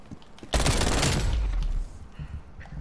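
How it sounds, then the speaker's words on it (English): A shotgun fired in a 1v1 video game match: one loud, close blast that roars for just over a second and then fades into quieter background noise. "well that was a shotgun"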